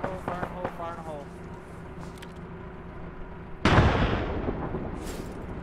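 Demolition charges going off in the military shooter Arma: a sudden loud blast with a rumbling, debris-filled tail after a short stretch of quieter field sound and a brief voice.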